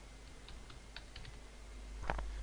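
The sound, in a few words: typing text on a computer keyboard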